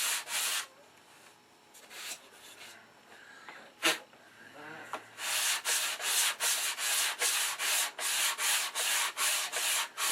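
Sandpaper rubs on a P-47 Thunderbolt scale model part, starting with a few scattered strokes and then settling into fast, loud, rhythmic back-and-forth sanding close by.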